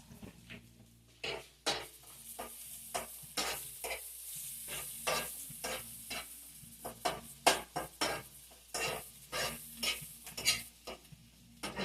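Onions fry and caramelize in a pan for a home-cooked breakfast, a continuous sizzle broken by frequent scraping and stirring strokes against the pan, close and fairly quiet, with no talking.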